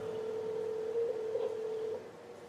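Telephone line tone while placing a call to AT&T: a steady, droning electronic tone holds for about two seconds, then drops away, with no one talking.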